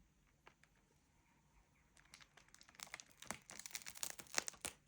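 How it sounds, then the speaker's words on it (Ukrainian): Crinkling plastic bag, faint at first then louder and busier, a dense run of sharp crackles and rustles close to the microphone. "Це пакет хрустить"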